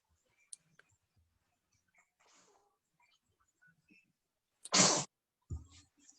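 A single sharp sneeze bursts out loudly midway, with a few faint clicks and a softer noise before it and a short breathy sound after.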